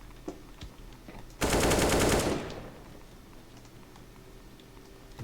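A burst of rapid automatic gunfire in a video game, close and loud for about a second with a fading tail, surrounded by quiet keyboard clicks.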